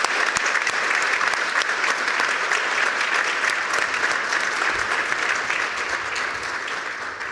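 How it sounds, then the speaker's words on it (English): A standing audience at an honors ceremony gives a big final round of applause, thick and steady clapping that holds throughout and eases slightly near the end. "I'm going to have everybody stand up one last time for one big final round of applause here."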